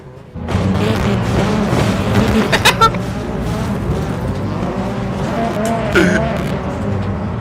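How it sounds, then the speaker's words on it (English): A race car crashes into a wall in rFactor 2 at Adelaide in a BTCC touring car race, with loud engine roar and tire noise throughout and sharp impact bursts near three and six seconds. "Notta's plowed into the wall"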